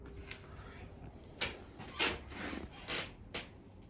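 Screws being tightened on a Kemimoto rear luggage rack fitted to a 2022 Suzuki DR-Z400SM motorcycle, producing faint, short scraping and rubbing bursts at irregular intervals, close by and with no talking.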